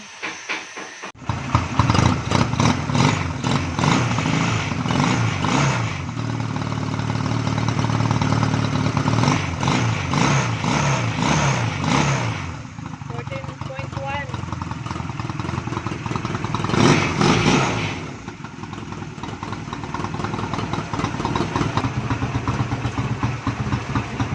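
Honda Rebel 250 motorcycle engine running after a stator rewind and regulator replacement, a loud close idle that starts abruptly, with rhythmic putter and brief revs over a steady hiss.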